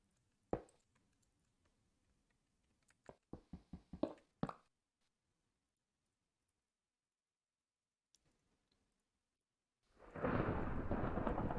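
Thunder from lightning in the Minecraft video game, heard as a few sharp, crackling cracks that are followed by a long silence and then a loud, sustained rumbling roar.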